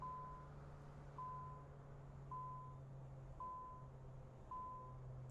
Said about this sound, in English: I'm not sure why it's beeping.